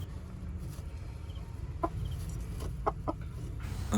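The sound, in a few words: mother hen clucking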